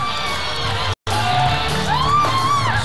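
Someone shouts excitedly on a game show stage, a loud sustained yell over a cheering, noisy studio crowd, broken by a brief cut.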